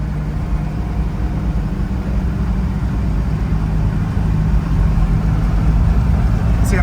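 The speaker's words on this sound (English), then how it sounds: "It still sounds like an old school truck" A 1967 Chevrolet K10 Suburban truck's engine drones loudly and steadily while driving, a low rumbling hum that grows slightly stronger toward the end.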